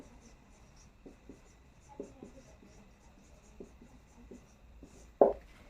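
Pen or chalk strokes scratch out authors' names in soft, short bursts, faint and close, with a single louder tap near the end.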